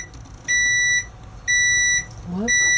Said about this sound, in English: Can you hit the oven timer?